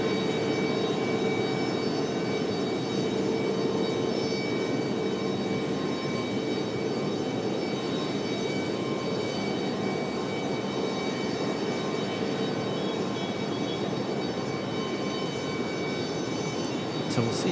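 A JetBlue airliner, flight 404 from San Juan, Puerto Rico, moves around Raleigh-Durham airport. Its engines make a steady, broad roar that stays at an even level throughout, with no voices.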